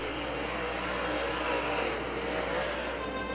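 NASCAR open-wheel modified race cars run on the oval at Cedar Lake Speedway, giving a steady, dense engine roar from a distance that holds at one level without clear pass-bys.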